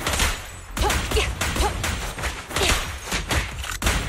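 Sustained gunfire in Zenless Zone Zero: repeated bursts of shots and impacts in a rough rhythm, loud and close, with brief gaps between volleys and no voices.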